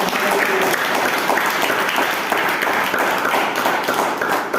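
A church congregation claps in praise of God during a Hindi sermon, a dense, steady wash of many hands clapping close by for the whole stretch, with no voices over it.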